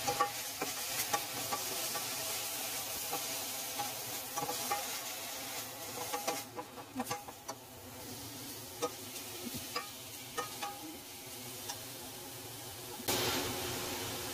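Fenugreek leaves are sautéed in a pan, producing a quiet, soft sizzle broken by irregular taps and scrapes of stirring.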